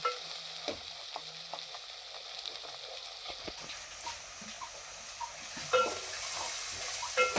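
Masala with coriander frying in oil for a paya soup, a soft continuous sizzle with occasional stirring scrapes and clicks, a louder burst of hissing near the end.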